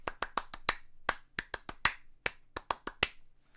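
Hands clapping a syncopated melodic rhythm, sharp close claps in uneven groups with short gaps, crisp and solitary with no talking.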